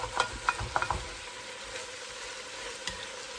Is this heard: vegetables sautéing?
yes